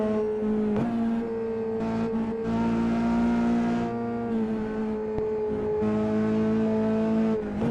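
F3 race cars in the iRacing game roar at high revs with a strong, steady engine tone that shifts pitch through gear changes, loud and close throughout.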